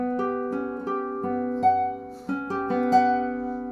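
A classical guitar plays an unusual chord from the second bar of Barrios' Preludio Saudade, its notes plucked in a repeating arpeggiated pattern that rings and sustains under each new pluck, close and solo.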